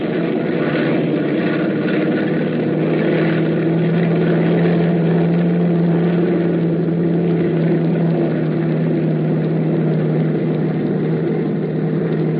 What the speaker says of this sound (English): It all starts to add up when the plane takes off.